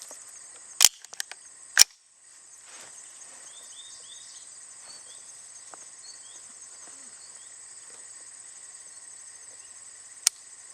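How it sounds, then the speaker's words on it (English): A Chiappa M4-22 rifle fires a few sharp, clipped shots outdoors, three in quick succession early on and a lone one near the end, with steady insect chirring filling the quiet in between. "you are witnessing the initial opening shots"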